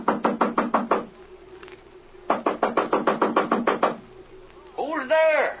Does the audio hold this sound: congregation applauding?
no